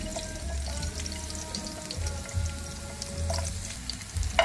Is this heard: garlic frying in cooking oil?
yes